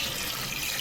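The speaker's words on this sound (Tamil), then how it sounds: "வேணுங்கிற அளவுக்கு தண்ணி ஊற்றிக்கணும்." Water gushes steadily as it is poured into a cooking pot of mutton and raw jackfruit masala. The splashing is close and fairly loud throughout the short burst, with no voices.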